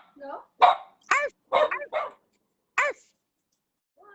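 A woman imitates a dog with a string of short, yappy vocal barks, several in a quick burst followed by a lone one after a pause, close and clear.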